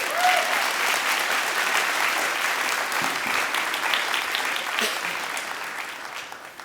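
An audience at a commencement ceremony applauds a young singer, a dense, steady wash of many hands clapping that holds for several seconds and tapers slightly toward the end.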